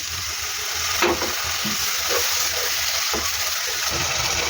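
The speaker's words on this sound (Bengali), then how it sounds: "এখন মশলাটা একটু কষিয়ে নেব আমি আদা রসুনের সাথে সাথে একটু পানি দিয়ে।" Ginger-garlic spice paste frying with a little water in a pan for pigeon curry, a steady close sizzle throughout with intermittent scraping stir strokes.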